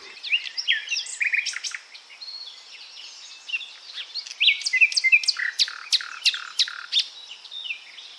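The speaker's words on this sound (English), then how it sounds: "N for Nightingale." A nightingale sings alone, loud and clear, in quick varied phrases of whistles, trills and sharp chirps with short pauses between bursts.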